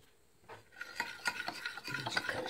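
Thick batter for zucchini flower fritters being stirred briskly in a bowl, a close scraping, rasping churn that starts faintly and builds into steady repeated strokes with no talking.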